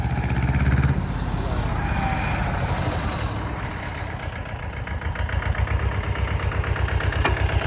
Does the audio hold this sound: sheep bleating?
no